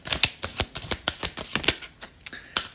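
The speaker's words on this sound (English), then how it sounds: "I kept seeing that card while I was talking to you and shuffling" Tarot cards being shuffled by hand during a reading, a quick run of crisp riffling snaps and slaps repeating in an uneven rhythm, close and fairly loud with no talking.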